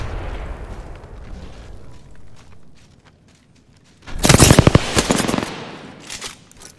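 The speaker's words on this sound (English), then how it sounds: "Look out, grenade." A grenade blast and heavy automatic gunfire in the video game Apex Legends: after a few quieter seconds of background rumble, a loud burst erupts and rapid shots crackle and pop close by for several seconds.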